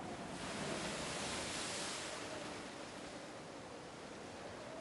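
Ocean waves crash against a shore in Umineko When They Cry, a steady, soft wash of surf with a faint hint of wind and no voices.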